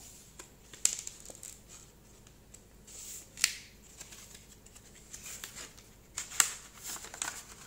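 Sealed vinyl records are unwrapped: sparse, faint crinkles and crisp plastic snaps of shrink wrap being torn and peeled, scattered irregularly with quiet pauses between.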